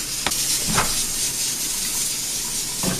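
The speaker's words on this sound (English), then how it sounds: "You see the pressure and the steam coming out of there." A pressure cooker of Cuban-style rice, black beans and pork chops vents steam inside a running microwave, producing a constant close hiss with a few brief louder puffs.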